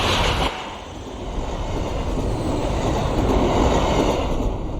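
Amtrak Acela Express high-speed train rushing past with a steady broad roar and faint rail rattle, close and loud, holding for several seconds with no talk.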